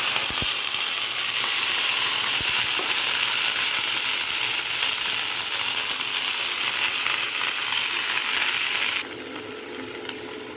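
Vegetables sautéing in sesame oil for a mixed-vegetable chutney give a steady, loud, close sizzle with a dense hiss throughout, dropping somewhat softer for the final second or so.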